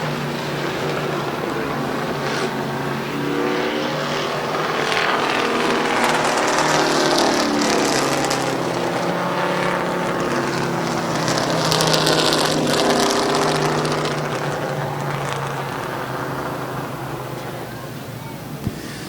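Race cars roar steadily around the Midvale Speedway oval at a fall classic heat race, engine noise swelling and fading continuously for the full stretch, loud and dense with a crowd-like wash beneath.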